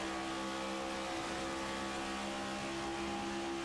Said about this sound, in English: The throttle crack open on board the 6-car.